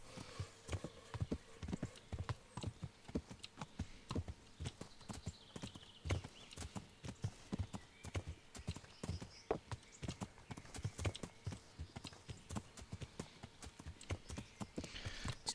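Horse hooves clip-clop steadily in the video game Kingdom Come: Deliverance, an even walking rhythm that continues throughout, moderately close with quiet ambience behind.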